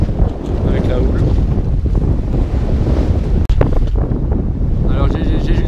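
Wind buffeting the microphone over rushing sea water and surf, loud and continuous, with swell and waves washing around a moving sailboat in force 5 wind off Skikda, Algeria.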